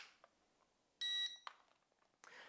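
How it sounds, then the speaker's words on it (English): ASC-2680 drone emits a single short high-pitched electronic beep as it enters training mode, a clear tone lasting about a quarter second, followed by brief clicks in an otherwise quiet room. "You will hear a beep and the lights will continuously flash on the drone."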